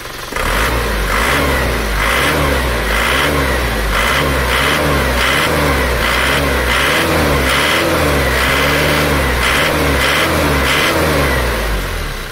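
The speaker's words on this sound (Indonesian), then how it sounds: "Dan suaranya seperti ini kalau digas." A diesel car engine with adjusted injection pump timing revs repeatedly, rising and falling in regular throttle bursts with a rough, harsh, knocking tone, loud and close throughout.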